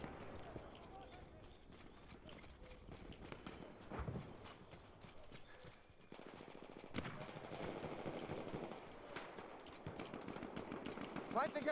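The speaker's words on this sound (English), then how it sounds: "Feindliches MG!" Enemy machine gun fire rattles in the war game Battlefield 1 amid galloping horse hooves and battle noise, with rapid bursts mixed into a busy, dense soundscape and voices calling out.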